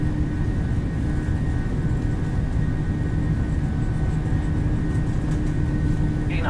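Boeing 737 engines in the PMDG simulation for Microsoft Flight Simulator 2020 roar at takeoff thrust, a continuous dense rumble with a steady whine on top, loud and unbroken throughout.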